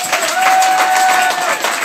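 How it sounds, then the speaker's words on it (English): Street crowd at a Balbriggan march applauding, a dense continuous patter of many hands clapping outdoors, steady and fairly loud for the whole moment. "You do deserve a round of applause and fair play."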